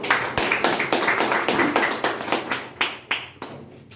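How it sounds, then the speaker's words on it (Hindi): Rhythmic, fairly close clapping from an audience at a network marketing business talk, steady beats about three per second that grow sparser toward the end. "तालियां बजा लो जब तक"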